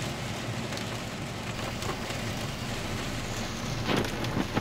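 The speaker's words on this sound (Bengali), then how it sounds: "ঝমঝম করে বৃষ্টি হচ্ছে।" Heavy rain pours steadily in the Dooars forest, a dense continuous hiss with a louder burst of drops near the end and no speech.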